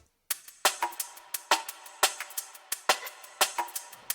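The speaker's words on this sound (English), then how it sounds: "Then next I added a top loop that also builds up the tension during the intro." A crisp top loop of percussion builds tension in a liquid drum and bass intro, sharp bright hits repeating in a quick, syncopated rhythm. It plays quietly and alone.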